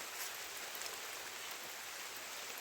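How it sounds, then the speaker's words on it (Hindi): Rain falling outdoors on grassy ground, a soft, even hiss of steady drizzle that stays faint and unbroken throughout, with no voices. "अभी देखो घास के लिए आई थी तो बारिश शुरू हो गई"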